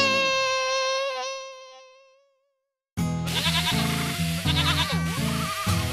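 A single drawn-out, wavering sheep bleat sounds loud and close and fades away over about two seconds. After a brief silence, bright, busy music cuts in suddenly.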